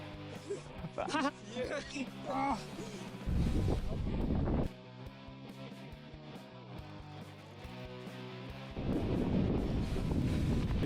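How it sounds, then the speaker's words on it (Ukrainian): Strong gusts of wind buffet the microphone in heavy rumbling bursts on a winter mountain climb to Khomiak, with people talking and shouting in between. "вітер капець."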